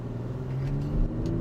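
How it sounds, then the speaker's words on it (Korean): Genesis G90 2023 with electric supercharger pulling away from low revs after slowing for a speed bump, a steady low engine hum from inside the cabin, smooth and fairly quiet with no talk. "속도를 충분히 줄인 다음에 이 상태에서 가속 페달 밟을 때"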